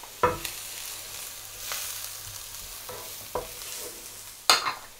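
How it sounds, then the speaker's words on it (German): Onions and garlic soften in a pan for a pumpkin and red lentil curry, giving a low, steady sizzle broken by a few sharp clicks and scrapes from a stirring spoon. "Zwiebeln und Knoblauch. Und das schwitzen wir jetzt erstmal für ein paar Minütchen an."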